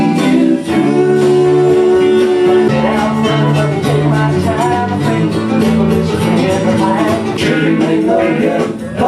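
Excerpt from an album: a full band with steady chords and layered melodic lines plays continuously at a strong, even level, with no talk over it.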